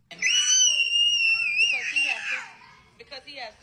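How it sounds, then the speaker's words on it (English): An 8-month-old baby lets out a loud, sustained high-pitched scream in a restaurant, wavering for about two seconds before trailing off into shorter cries. "her 8-month-old baby was screaming loudly in this restaurant"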